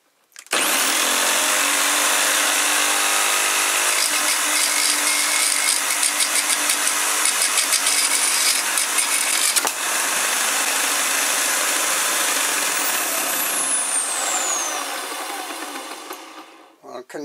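A shredder with a hopper chewing through 3D printed plastic parts, a loud continuous grinding roar that runs steadily for about fifteen seconds before winding down and stopping.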